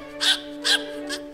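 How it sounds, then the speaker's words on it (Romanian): A dog barks three times in short, sharp yaps spaced about half a second apart, close and clear above a steady hum, during a comedy TV show. "Câinele își lua și avânt, făcea wow, wow."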